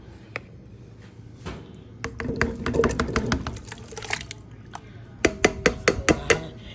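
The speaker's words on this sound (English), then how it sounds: "I'm going to pour the shrimp into the pans." Seasoned shrimp pour into a pan with a wet splash and clatter, followed by a run of sharp clicking ticks, close by, as the pieces land and shift against the metal.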